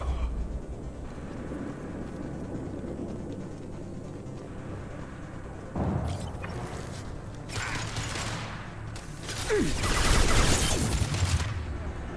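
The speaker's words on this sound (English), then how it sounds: "Taking heavy fire!" Gunfire crackles in a Mass Effect 2 firefight. A steady rumble of shots runs under a voice, then louder bursts and impacts swell near the end.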